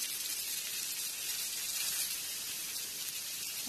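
Fresh homegrown cabbage hits a hot pan and sizzles in a steady, bright, even hiss that holds at a constant level without pause.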